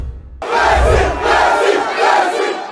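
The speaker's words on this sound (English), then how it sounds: "Messi waved to cheering fans from the window of Le Bourget Airport on the outskirts of the French capital." A crowd of fans cheers and shouts at a hero's welcome for a football star arriving at Le Bourget Airport outside Paris, a loud sustained roar rising and falling in waves after a brief quiet start.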